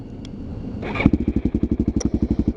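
A motorcycle is started up in Hawaii. A brief starter whir leads to the engine catching, then it settles into a loud, close, rapid idle with evenly spaced pulses.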